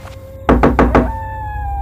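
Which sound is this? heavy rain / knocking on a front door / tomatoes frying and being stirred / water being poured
knocking on a front door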